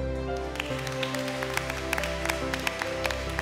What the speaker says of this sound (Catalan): demano que l'aplaudiment sigui per vosaltres